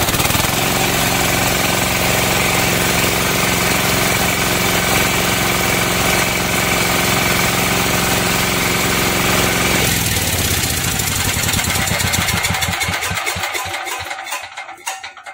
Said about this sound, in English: And let's start the engine.